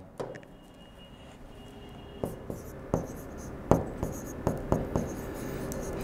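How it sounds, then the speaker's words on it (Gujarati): A pencil fixed in a compass sweeps a 5 cm arc across paper during a geometry construction, giving a soft scratchy scrape with a string of sharp little ticks and taps near the end, close and quiet. "પી ને કેન્દ્ર લઈ 5 સેન્ટીમીટર ત્રિજ્યાની એક ચાપ દોરો।"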